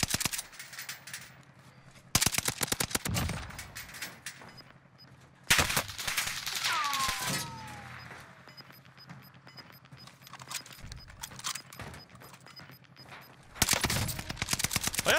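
Bursts of rapid automatic gunfire from an enemy player in Warzone crackle at moderate distance, separated by quieter stretches, with one longer burst at the start, another midway and a final burst at the end.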